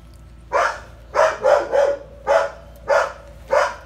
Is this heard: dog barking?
yes